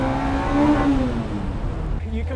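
Fiat X19 rally car engine revs hard and loud up close, its pitch climbing and then dropping sharply at a gear change near the end, with a strained mechanical roar throughout.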